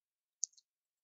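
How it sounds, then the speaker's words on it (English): A single faint, crisp computer mouse click with a tiny trailing tick, close and isolated against silence while adding columns in a database tool. "click the plus button here to add some more columns"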